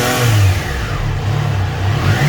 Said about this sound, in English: I think it's quite a nice engine sound on the Triumph.